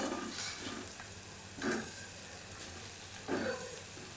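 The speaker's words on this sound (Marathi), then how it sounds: "मसाला आपला चांगला भाजून झाला" Onion and coconut masala roasting in a pan for a chickpea amti, a low crackle with three short bursts of stirring and scraping spaced a second or more apart, no talk.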